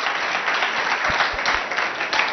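A studio audience applauds two competing bilingual middle schools on a school quiz show, dense continuous clapping throughout with a few low thumps mixed in.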